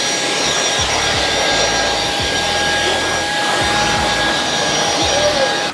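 A Halo Capsule X cordless vacuum with its motor brush head attached runs with a loud, steady whirring whine, and low thumps from the brush moving across the floor sound beneath it.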